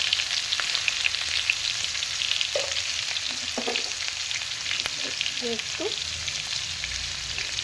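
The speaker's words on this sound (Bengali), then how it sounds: "তেলের উপরে দিয়ে দেবো। একে একে সব আলুটা দিয়ে দেবো।" Potatoes frying in oil with turmeric for aloo dum, a steady loud sizzle throughout with occasional stirring scrapes and a few quiet spoken words.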